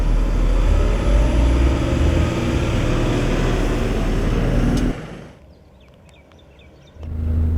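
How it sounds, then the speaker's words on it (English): An IVECO Eurocargo 4x4 truck pulls away uphill from an intersection, its diesel engine loud and close with a rumbling build, then the drone drops away briefly before the engine roars again. "So as I accelerate, I'll disengage the park brake at the same time."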